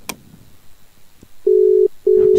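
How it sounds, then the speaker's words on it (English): A WhatsApp voice call on a PC rings out as two steady electronic tones, each about half a second long and separated by a short gap, loud against near silence. "So you can see that the bell is ringing"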